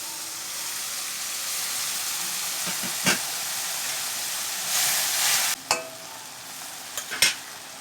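Water poured into a hot pan of frying fish and water lilies, a steady hiss of sizzling oil with short bursts of louder steam and a few clinks of utensils.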